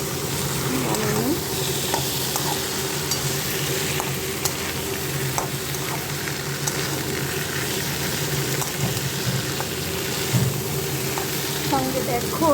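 Mung dal frying and sizzling in a pan while being stirred, a steady crackling hiss with occasional scrapes, close by, with someone talking.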